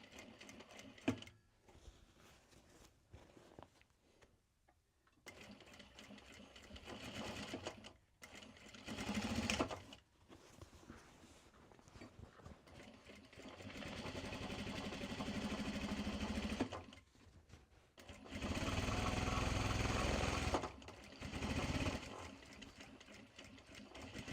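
A sewing machine stitches a tote in bursts, fast buzzing runs of needle strokes that start and stop, growing longer and louder toward the end, with quiet pauses between them.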